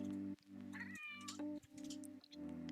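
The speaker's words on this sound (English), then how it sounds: "Here you go, some sweet cat tunes." A pet cat meows several times over steady chill background music, the cries short and mid-pitched with a slight rising-and-falling tone, close and clear above the tune.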